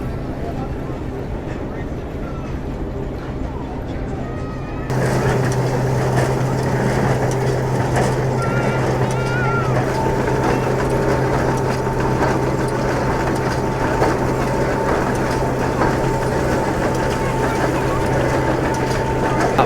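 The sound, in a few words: steam engine driving a straw baling machine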